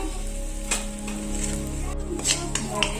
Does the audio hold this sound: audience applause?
no